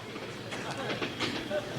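A train running at a station, its steady rolling rumble and clatter filling the clip, with voices talking over it.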